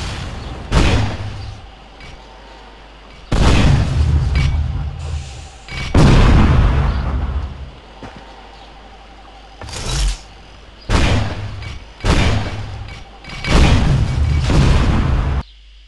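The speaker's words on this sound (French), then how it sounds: "Cette arme est capable de tirer des grenades, ou bien de tirer des missiles." Weapon fire in the UDK game engine, a first-person shooter gun launching grenades and missiles: a series of loud booming explosive blasts in irregular bursts, some long and rumbling, with quieter gaps between.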